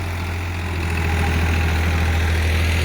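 New Holland 3600-2 tractor engine, a 50 hp model, idling steadily in standard gear, a deep continuous low rumble with a firm hum, close and loud throughout with no talking.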